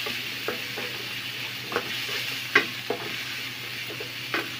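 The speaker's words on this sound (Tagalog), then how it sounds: "ngayon magigisa na tayo ng bawang, garlic, onion, tapos tomato" Garlic, onion and tomato sauté in a pan with a soft, even sizzle, broken by occasional sharp clinks and scrapes of a utensil stirring.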